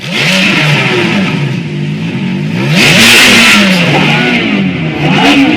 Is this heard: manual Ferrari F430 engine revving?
yes